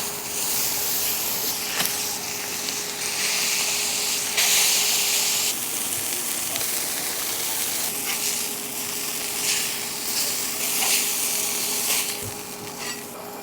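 Butter burger patties, six ounces each and topped with cheese, sizzle steadily on a grill, a dense continuous hiss with soft crackles that holds loud and close throughout, with no talking.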